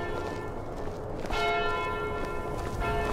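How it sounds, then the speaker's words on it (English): A church bell tolls in the Skyrim video game, one loud resonant strike with a long ringing decay over a steady background din. "The bell's getting kind of annoying."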